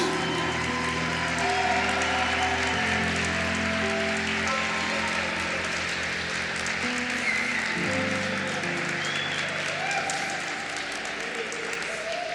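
A church congregation applauds to celebrate Jesus during a service, a steady wash of clapping from a large crowd held under sustained music tones, continuous and fairly loud throughout.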